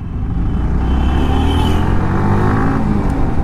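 Heavy road traffic stuck in a jam, a loud, close, continuous wash of car and truck engines with a brief rising rev, no voices.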